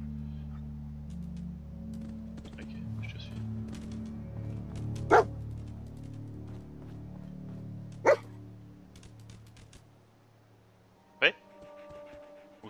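A dog in the video game Fallout 4 barks in three sharp, separate yaps spaced a few seconds apart, set over low game ambience and panting, with a voice talking faintly beneath.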